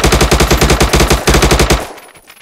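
The TKB Proto gun in the video game Unturned firing a long, rapid automatic burst, loud and close, with evenly spaced shots that stop abruptly and leave a brief fading tail.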